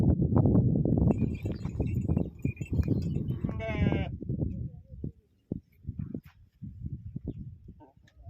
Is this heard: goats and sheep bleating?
yes